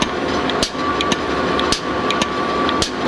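A paint pump works steadily in a paint tube factory, with a continuous mechanical drone broken by regular sharp knocking strokes roughly every half second, loud and close, without talk.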